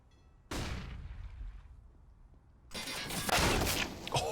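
A sharp burst of AK rifle fire cracks through a wall in a Counter-Strike match at the Blast Premier Spring Finals 2022, then trails off before a denser, louder volley of shots erupts near the end.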